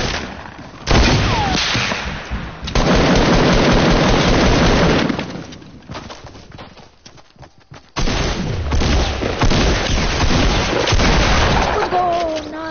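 Video-game gunfire from other players crackles in dense, loud bursts of shots and booms, broken by a quieter lull in the middle, with a voice occasionally speaking over it.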